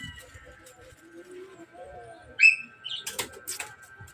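Pigeons fighting, with a burst of wing flapping and scuffling plus a brief bird call, fairly close against a quiet outdoor background where a person speaks faintly.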